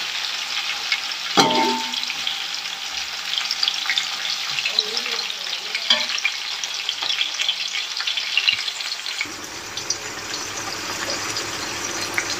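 Around 400 grams of onions frying for chicken biryani, a steady, loud hiss of sizzling oil with an occasional stir or clink, the hiss softening slightly toward the end.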